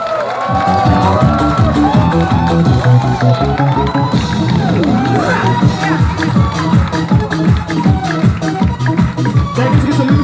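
Crowd cheering and clapping during a night fire show, a loud continuous roar of voices and applause with a steady rhythmic beat beneath it throughout.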